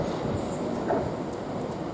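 An Avanti West Coast train from London Euston towards Birmingham New Street passes through Coventry station with a steady, moderately loud rolling rumble and a brief squeal.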